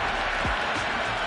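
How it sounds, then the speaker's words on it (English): Stadium crowd noise from the cricket video game Cricket 26, a dense steady roar of cheering spectators, loud and continuous over a short stretch. "There's a buzz, a real buzz coming from the stands"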